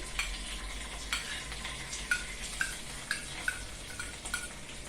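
A crushed garlic, ginger and green chili paste sizzles in a hot oil tempering, a soft continuous fry under a series of sharp clinks and taps as a spoon stirs against the pan.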